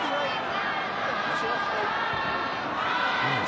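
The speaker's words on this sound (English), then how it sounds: "Noise has been deafening from the crowd. They're in full voice again with another hymn." A stadium crowd at a Tonga versus Australia rugby league match singing a hymn in full voice, a loud, continuous roar of many voices filling the space, with commentary talking over it.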